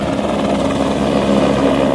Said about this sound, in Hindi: ये पवनंस का हेलीकॉप्टर केदारनाथ जी के लिए उड़ान भर रहा है पाटा हेलीपैड से